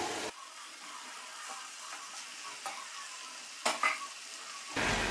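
Spaghetti noodles tossed with chilli sauce and soy sauce in a hot pan for Chinese egg noodles, giving a steady soft sizzle with scraping stir strokes and a few louder clatters near the end.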